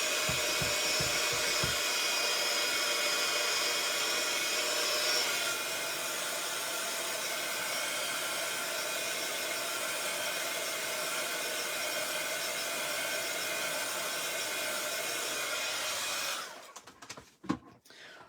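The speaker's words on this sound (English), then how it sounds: "I'm going to bring my heat gun and just give that a whiz while I wipe the counter down" A heat gun blows hot air over craft card with a loud, steady whooshing roar that drops slightly in pitch partway through, then cuts off near the end and leaves a few soft handling knocks.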